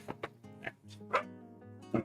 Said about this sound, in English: And there goes dogs.